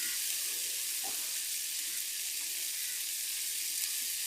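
Chicken sautéing in oil with turmeric powder gives a steady, even sizzle that holds at one level throughout, with a soft stirring scrape near the start and no talking.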